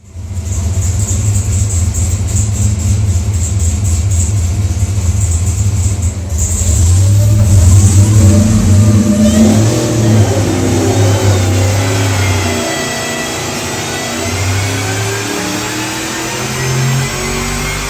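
A supercharged 427ci LS V8 with a 3L inverted-lid Whipple in a pro-touring Chevelle idles loudly, then revs up hard and settles back with a rough, lopey rumble, close and continuous.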